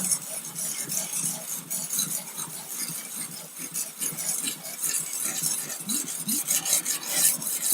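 A knife edge drawn over the stones of a Wicked Edge Go guided sharpener gives a steady run of close, raspy grinding strokes that repeat in a quick rhythm, with no talking.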